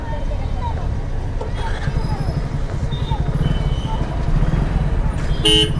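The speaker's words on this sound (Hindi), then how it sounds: "इधर पर दोनों साइड में ट्रैफिक है, इधर भी ट्रैफिक है, उधर भी ट्रैफिक है।" Busy two-way road traffic heard from a stopped bike taxi, with a dense engine rumble throughout, crowd babble, and short car horn toots sounding near the start and again loudly at the very end.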